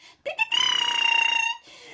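A sustained electronic bell or buzzer rings steadily for about a second, preceded by a couple of brief clicks and a soft voice sound.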